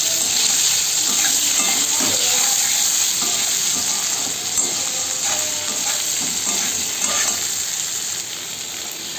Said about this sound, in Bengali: সুন্দর করে আমি তেলের মধ্যে আমি ভেজে নেব